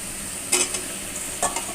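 Pumpkin pieces sautéed in a spice masala, with a soft background sizzle broken by two sharp scraping stirs of a spatula in the pan.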